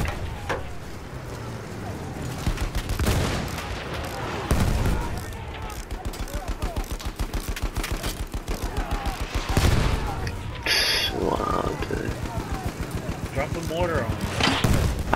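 Video game combat with mortar blasts and rapid gunfire: booming thuds and dense bursts of shots crackle continuously, loud and close, with brief pauses between volleys.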